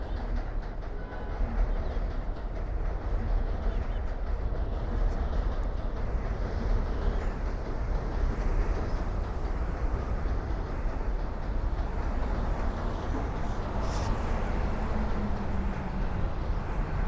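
A G subway train rumbles through Brooklyn with a continuous loud, broadband roar and rail noise, holding steady from start to finish with no pauses; a brief higher squeal appears partway through.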